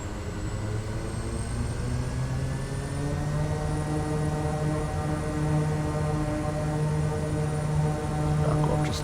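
Simworks Studios Kodiak 100 single-engine turboprop at takeoff power in Microsoft Flight Simulator 2020: a steady, loud propeller and engine drone with a strong low hum, holding constant without talk.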